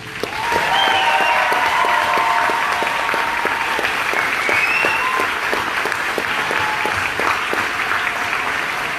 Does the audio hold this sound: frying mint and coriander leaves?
no